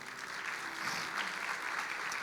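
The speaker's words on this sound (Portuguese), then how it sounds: "Você pode dar um aplauso a Ele?" A church congregation claps steadily and continuously, a dense wash of applause heard from some distance, with no voices over it.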